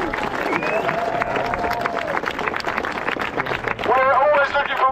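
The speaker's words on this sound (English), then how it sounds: "Can we have a massive round of applause for all our volunteers?" A crowd applauds volunteers at a Cassiobury parkrun, steady outdoor clapping throughout, with voices and chatter over it and a brief whistle-like call near the end.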